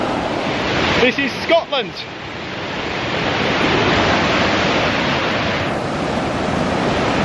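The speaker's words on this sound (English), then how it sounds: "And I'm just looking now at these incredible rapids again." River rapids in the Scottish Highlands rush loudly and steadily as a broad, continuous roar of water. Near the start, someone speaks briefly over the torrent.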